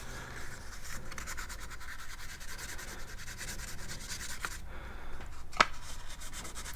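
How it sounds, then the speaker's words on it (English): Very fine wet-dry sandpaper rubs back and forth over corroded electrical connectors of a trim switch, giving a faint, steady scratchy scrubbing with one sharp tick near the end. "So I got myself set up with some very, very fine wet dry sandpaper"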